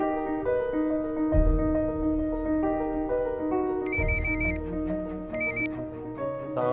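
An electronic ringtone-like melody with high beeping tones, playing repeatedly over background music, moderately loud and close.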